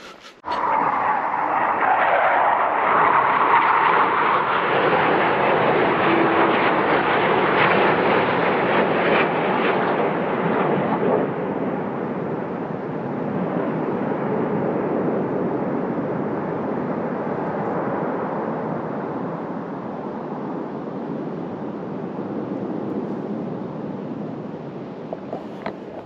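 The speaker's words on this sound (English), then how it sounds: "So the fighter planes are coming" Loud, sustained jet roar as fighter jets sweep past below a mountain vantage point, swelling then slowly fading as the aircraft move away; no voices.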